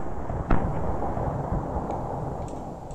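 An FN F2000 gas blowback airsoft rifle fires, giving one sharp shot over steady background room noise, followed by faint small clicks of the mechanism.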